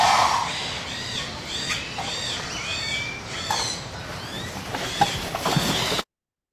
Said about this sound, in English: Some jungle, I'm not sure.